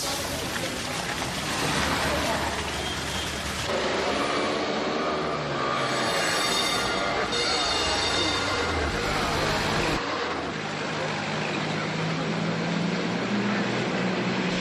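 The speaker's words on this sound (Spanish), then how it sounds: "aún se puede disfrutar de los viejos tranvías, seguros, ecológicos, tranquilos" An old city tram in Portugal rumbles steadily along its rails, loud and close throughout, with a broad metallic roar that shifts in character partway as the car runs on.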